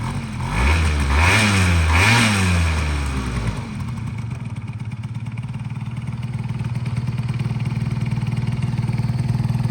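A 30-year-old Honda Dio AF-35 SR scooter imported from Japan revs up loudly several times with rising and falling pitch, then drops to a steady, close, slightly buzzy idle that continues alone.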